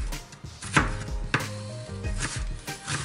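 Onion being chopped into small pieces on a board, with a few sharp knife strikes standing out over a steady background of low kitchen noise.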